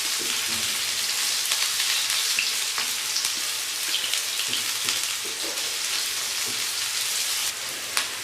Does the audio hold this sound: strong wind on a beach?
no